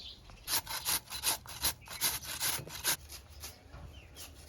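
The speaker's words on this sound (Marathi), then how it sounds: "हा बटाटा ना किसून घेते मी आता" A medium-sized raw potato is rubbed back and forth across a grater, giving a run of close, rhythmic rasping strokes that slow and fade toward the end, with no talk.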